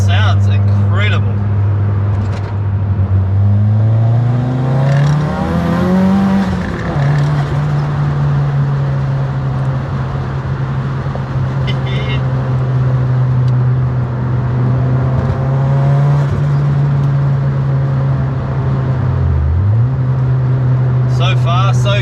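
A fake Evo, a budget car passed off as a Mitsubishi Lancer Evolution, driven hard through hills, its engine droning loud and close throughout with rising and falling revs through gear changes, and people talking over it.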